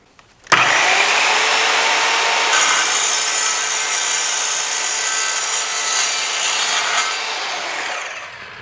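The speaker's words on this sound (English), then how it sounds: "How about some metal electrical conduit?" An Evolution multi-material track saw cuts through metal electrical conduit, a loud, steady high-pitched grinding whine that starts abruptly, runs unbroken for several seconds, then tails off as the blade winds down.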